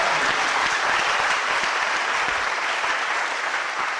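A church congregation bursts into sustained, dense applause, loud and even throughout, with many hands clapping together in a large room.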